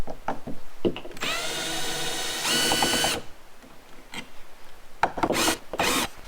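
Screws are backed out of an RV entry door lock with a power driver, giving two sustained whirring runs plus scattered clicks and rattles of handling. It is close, with no speech.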